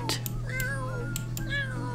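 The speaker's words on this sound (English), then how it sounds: "God, she loves that cat." A cat meows in a life-simulation video game, a couple of short close meows over a steady low hum, with no talk over it.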